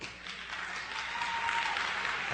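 An audience at a talk claps, a steady, fairly distant patter of many hands running throughout with no voice over it.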